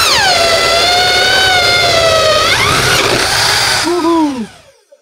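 A DongCheng DZJ02-13 electric impact drill with a hole saw whines at high speed, its pitch sliding down under load, then winds down and stops abruptly.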